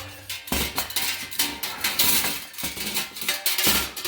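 A cheap metal box grater, with a whisk tangled inside it, is handled and knocked about, giving repeated clattering metallic clanks and rattles at an uneven rhythm, close and fairly loud, with no speech.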